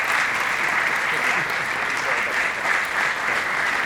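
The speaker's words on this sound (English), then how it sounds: "Now, please give a round of applause to both candidates for participating in tonight's forum." A steady round of applause from an indoor audience at a county executive candidates' forum hosted by a realtors' association, dense and continuous clapping at even loudness throughout.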